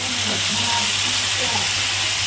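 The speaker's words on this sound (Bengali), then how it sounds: "এই যে মাছগুলো ভেজে নিচ্ছি, ভুনা করব।" Pangas fish pieces frying in a pan while being prepared for a bhuna, a steady close sizzle and hiss with faint stirring scrapes, no talk.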